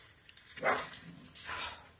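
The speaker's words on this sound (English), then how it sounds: "she's going to start barking now again." Two quiet, distant dog barks spaced apart, each a short broadband burst against a soft room background.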